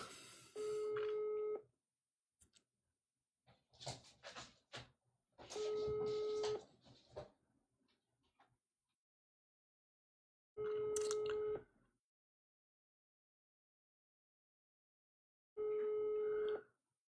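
Phone line tones from a call being placed back: four separate long steady beeps at even spacing, loud and alone, with scattered clicks and handling noises between the first ones.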